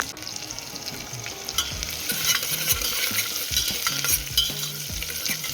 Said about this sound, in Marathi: त्यात घातलेलं आहे चिरलेलं लसूण थोडं परतून घेऊया